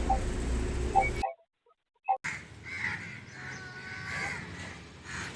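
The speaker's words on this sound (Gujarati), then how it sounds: "કાગડા ને કબૂતર બે આવે છે" A few harsh caws from crows coming to scattered grain ring out over outdoor background noise, followed by a short silence and then faint distant bird calls.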